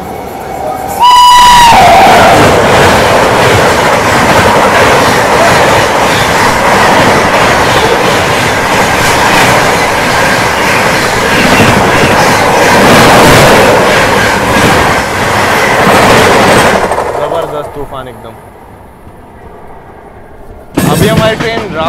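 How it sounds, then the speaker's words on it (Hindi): The Bangalore–Hazrat Nizamuddin Rajdhani Express rushes past at night through Lalitpur railway station without stopping, a loud, close, sustained roar with clattering wheels and a horn at the start before the noise fades away. "ये जे आई निज़ामुद्दीन की ओर जाने वाली है बेंगलोर हज़रत निज़ामुद्दीन राजधानी एक्सप्रेस"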